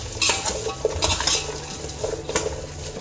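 Shallots and grated coconut being stirred and sautéed in a pan: repeated close scrapes and clinks of a spoon against the metal, in an uneven rhythm over a soft background sizzle, with no talk.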